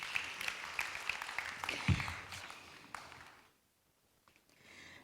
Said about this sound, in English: Another big round of applause to that,